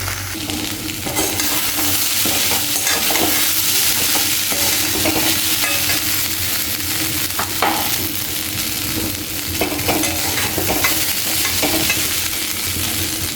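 Vegetables with chilli powder sauté in a pan over a loud, continuous frying sizzle, with repeated spatula scrapes and stirring throughout and nobody speaking.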